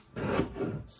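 Paper trimmer slicing a narrow strip of paper, a single brief rasping cut close by, heard alone.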